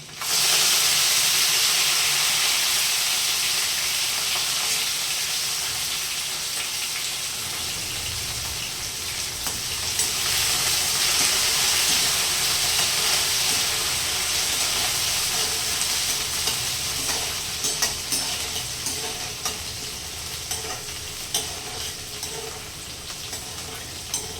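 Okra (bhindi) fries in oil in a pan, a continuous hissing sizzle with bursts of steam, loud at first and easing slightly, with occasional crackles and stirring noises.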